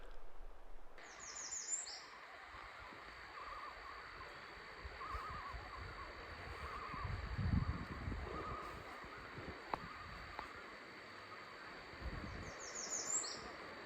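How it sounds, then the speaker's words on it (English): Birds chirping and an owl hooting around a Minnesota lakeside camp in the morning, faint and distant calls over a steady hum of insects, with no one talking. "Birds are still chirping."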